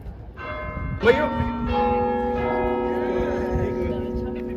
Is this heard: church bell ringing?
yes